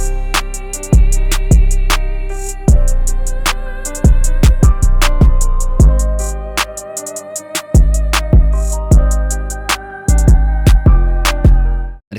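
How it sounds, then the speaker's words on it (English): An FL Studio melodic trap beat plays alone and loud, with a counter snare layered over the claps, landing with them on some hits, over sustained melodic keys, deep 808 bass and busy hi-hats. "we added this counter snare, which lines up with the claps on some notes"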